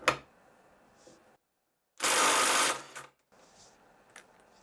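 Parkside PDSSAP 20 Li C3 cordless impact driver, 226 Nm, in second gear, a loud sustained whirring burst of under a second between quieter handling noises and a short click.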